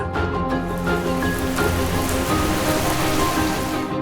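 Steady rain patters on a surface beside a highway, a continuous dense hiss at fairly loud level with no voices.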